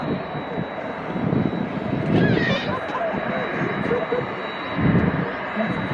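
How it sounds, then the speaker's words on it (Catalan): A DHL cargo jet takes off at Narita, its engines a steady, fairly distant roar with a rising whine, while people talk nearby. "I ara mateix s'enlairarà un de cargo de DHL"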